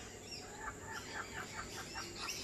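Kookaburras calling back and forth, a faint, repeated chuckling cackle in a steady rhythmic run over a constant background hiss.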